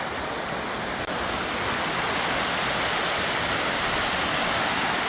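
Rushing water at the Anguthi Sunai waterfall roars as a steady, dense wash of sound, loud and close, unbroken for the whole stretch with no voices over it.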